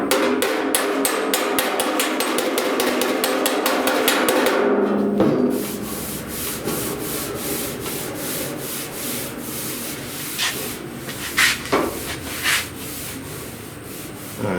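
Rapid, steady metallic hammer blows ring out close up for several seconds as a dented 1969 C10 sheet metal fender is hammered on a dolly, then give way to scattered heavier strikes and scraping.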